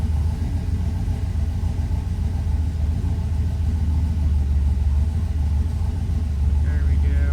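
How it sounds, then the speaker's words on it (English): A car engine fitted with Holley EFI idles fast in a steady, low rumble that holds without a break, fairly loud and close. "So we're still idling really fast."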